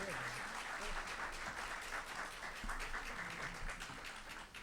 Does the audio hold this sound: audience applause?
yes